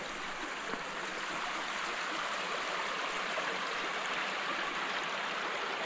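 A creek at a bush campsite flows in a continuous, even rushing hiss of water, moderately close and steady throughout, with no voices over it.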